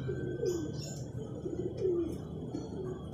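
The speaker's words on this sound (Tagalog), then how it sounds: "Yan ang ating mga ibon." Pigeons or doves cooing in a steady outdoor chorus, with soft chirps from other birds at a moderate distance.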